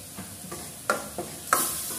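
Rajma masala being stirred in a pan after a little salt is added, with a few soft scraping strokes of a spoon over a faint, quiet background sizzle.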